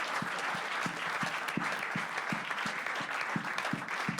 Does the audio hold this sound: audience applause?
yes